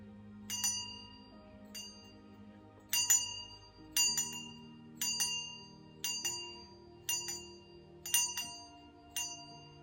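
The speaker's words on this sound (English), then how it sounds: "you hit it and then you spin it around to make it sing" A singing bowl struck nine times in an even rhythm with a stick, each bright ringing strike followed by a sustained humming tone as the stick circles the rim, close and clear with no talking.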